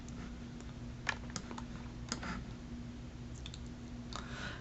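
Typing on a computer keyboard: soft, sparse key clicks in a few short bursts over a quiet steady hum, close but faint, no speech.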